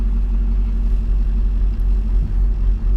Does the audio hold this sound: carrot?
no